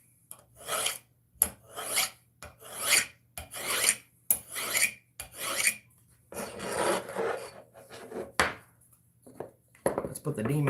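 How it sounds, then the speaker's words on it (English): A hand file rasps against metal during a cellphone repair, in rhythmic back-and-forth strokes of gritty scraping with short pauses between them, close up and fairly quiet. "That's going to eliminate all of your little teeth on the file from getting clogged up with metal shavings."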